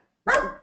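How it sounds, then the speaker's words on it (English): A dog barks once, close and loud, in a home setting during an online webinar, a single short bark on its own. "someone's dog is nice and active."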